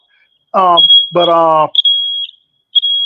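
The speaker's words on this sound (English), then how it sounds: "oh crap, this doggone alarm." A smoke alarm sounds a thin, high, steady electronic tone in repeated short beeps, heard alongside someone speaking during a call-in show.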